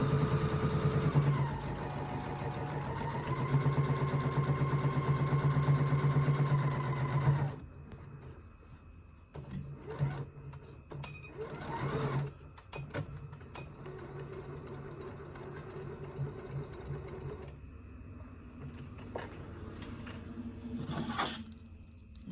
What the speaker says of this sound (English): So I'm going to sew a straight line down the middle to form that pocket.